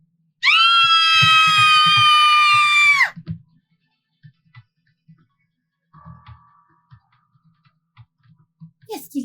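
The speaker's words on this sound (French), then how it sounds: "Nous t'avons entendu hurler" A loud, sustained scream of about two and a half seconds, followed by faint scattered knocks and movement noises in an otherwise quiet room.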